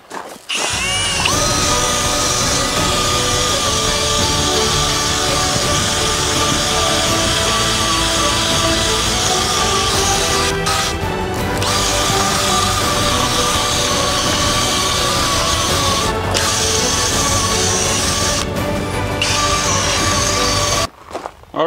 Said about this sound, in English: I'm going to be using a Cecil wheel, and I'm going to dip it in the Varsol here,